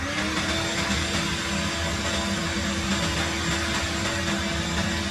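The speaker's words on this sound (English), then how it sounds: "Next up, I'm going to do my large shop vac." A large shop vac powered by a 12V 100Ah LiFePO4 lithium battery runs steadily with a loud, constant motor whine and airflow roar throughout, close and unbroken, with no talking.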